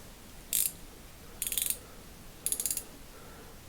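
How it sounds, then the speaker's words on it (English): A Lidl Parkside 17 mm combination ratcheting wrench being worked, three short bursts of fast metallic ratchet clicks spaced about a second apart, close and clear against a quiet background. "That's the ratcheting side. It doesn't have a switch on these. I guess you just turn them over."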